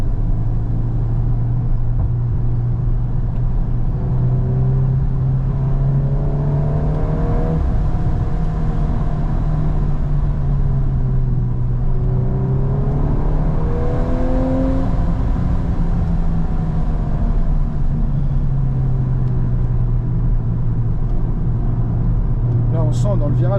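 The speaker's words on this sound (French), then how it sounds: "Puis alors en sortie de virage, tu remets pied sur l'accélérateur, elle repart vraiment direct, quoi." A sports car accelerates hard out of a bend on a mountain road, its engine droning loud and steady with rising and falling revs throughout, close to the microphone.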